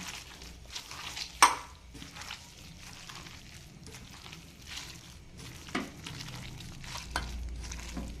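Bottle gourd leaf fritter batter being mixed by hand in a bowl with a pinch of cumin, giving soft, quiet squelching and stirring sounds with an occasional sharper knock of utensil on the bowl.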